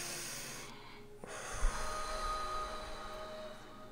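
One deep, slow breath during a guided meditation, a soft airy inhale swelling into a longer exhale, close and fairly quiet over a faint steady hum.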